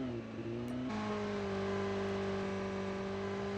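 A motorcycle engine in the Call of Duty Mobile battle royale mode hums steadily, with a brief shift in pitch near the start before it settles into a sustained, even drone with no talk.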